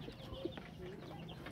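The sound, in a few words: one-week-old native baladi chicks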